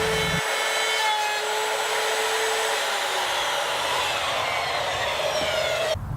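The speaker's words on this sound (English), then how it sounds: "I'll just route out the cavity for the battery box using a router template that I made" A router cuts a battery box cavity into the wooden body of a Fender Squier Showmaster guitar, a loud continuous whining drone with shifting tones that runs for about six seconds before cutting off.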